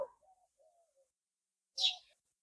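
A few soft, sparse sparrow chirps sound in an otherwise quiet setting beside a pond, with one brighter call near the end.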